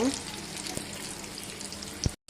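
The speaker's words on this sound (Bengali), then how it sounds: "এটাকে আমি ডুবো তেলে ভেজে নেব" Coated chicken pieces deep frying in hot oil on low heat, a steady faint bubbling sizzle that runs evenly throughout with a brief louder pop near the end.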